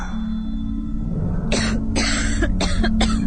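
A woman coughs in a radio horror drama, producing a run of rough, close coughs in short clusters over a low humming music bed.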